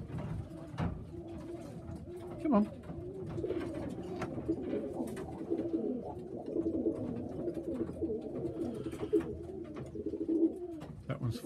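Show pigeons coo in a steady, overlapping chorus at a 2021 bird show, soft throaty rolls repeating close by throughout, while someone speaks briefly over them.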